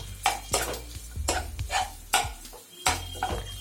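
Chopped tomatoes and capsicum are stirred in a pan for mushroom masala, a spoon scraping and clattering in repeated bursts with a faint sizzle underneath, close and fairly loud.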